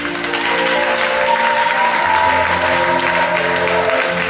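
A church congregation applauds and cheers in praise of the Lord at a Sunday service. The clapping is dense and steady for several seconds, with sustained tones underneath.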